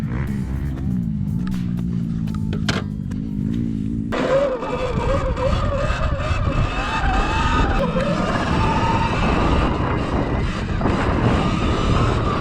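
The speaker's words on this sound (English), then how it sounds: "This is literally my first time riding the bike" A Sur Ron XX electric dirt bike being ridden whines up in pitch as it accelerates, loud and close, with a rushing wind-like roar after the first few seconds.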